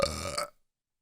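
A single loud, close burp with a tonal rasp lasting about half a second, then abrupt silence.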